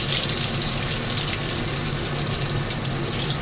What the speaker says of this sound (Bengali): দেখো আমি আলুগুলো দিয়ে দিচ্ছি, একটু ভেজে নেবো।